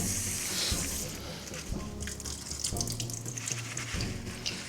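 A kitchen tap runs into a bowl of spinach being washed, a steady close splash of water with leaves being stirred and squished, dipping and surging as hands move through it.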